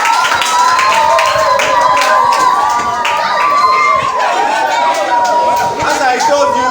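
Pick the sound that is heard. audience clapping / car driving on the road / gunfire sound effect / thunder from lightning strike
audience clapping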